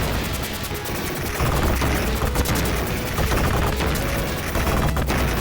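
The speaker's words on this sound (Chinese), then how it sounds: "又来轰炸的飞机了" A bomber plane attack in the Teenage Mutant Ninja Turtles arcade game, with dense, continuous rattling gunfire and explosive blasts under a droning engine, loud and unbroken.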